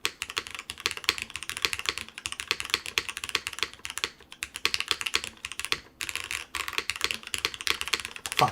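Rapid, steady typing on a Noxary 378 mechanical keyboard fitted with light Cherry Blossom switches, with crisp close clacks in continuous bursts and a couple of brief pauses.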